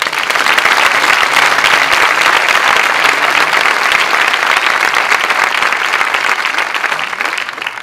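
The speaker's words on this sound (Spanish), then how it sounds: "Un aplauso fuerte." A theatre audience at a Falange Española anniversary celebration gives a loud, sustained round of applause, dense and unbroken from start to finish, tapering only slightly at the very end.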